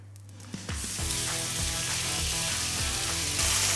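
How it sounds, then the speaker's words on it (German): Veal pieces searing in a very hot cast-iron pan, a loud, steady sizzle that swells as the meat hits the metal, with a few soft knocks and scrapes and no voices. "braten wir circa auf jeder Seite 2-3 Minuten an, bis wir eine leichte Kruste erreicht haben"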